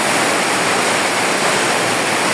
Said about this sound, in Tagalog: Kasulod na ang tubig sa balay.